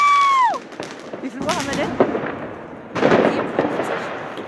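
New Year's Eve firecrackers bang outdoors, a burst of crackling explosions midway and another loud volley later, with people talking nearby.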